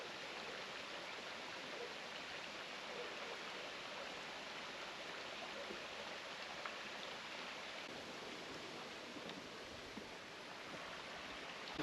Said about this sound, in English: I'm just following the sounds of the water.